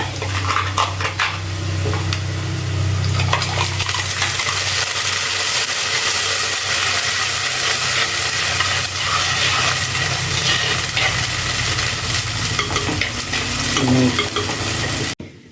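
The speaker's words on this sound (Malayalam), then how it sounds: "അരപ്പ് ഒന്ന് ഒഴിച്ചു കൊടുക്കാം" Ground coconut masala paste is poured into a hot pan for a sardine curry and stirred, giving a dense, continuous sizzle with scraping and stirring throughout, fairly loud and close, with no talk.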